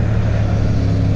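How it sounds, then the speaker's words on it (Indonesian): Big motorcycles rumble past on a scenic road, a loud continuous low engine drone close by that holds steady throughout, with no talk. "motor gede banget, wow"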